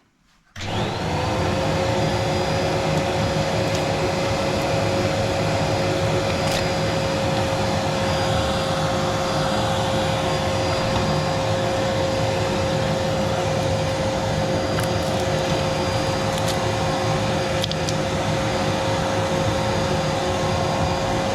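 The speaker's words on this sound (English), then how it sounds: "I'm going to put the vacuum on because there's glass fibres come off this" A vacuum cleaner switches on and keeps running with a loud, steady roar and a constant high whine for the whole stretch, used while sweeping glass fibres from a Stovax Riva inset stove.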